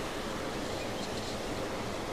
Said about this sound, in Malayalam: ഇവിടുന്ന് വെള്ളം തട്ട് തട്ടായിട്ട് മുകളിൽ നിന്ന് ഇങ്ങനെ ഒഴുകി വരുന്ന